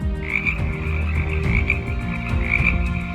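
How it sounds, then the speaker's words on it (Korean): A chorus of frogs croaks loudly and continuously, with overlapping rhythmic calls and no voices. "강물에서 개구리들이 튀어나오더니 왕의 궁궐에도 침대 위에도 밥그릇에도 펄쩍펄쩍 뛰어들어갔어요."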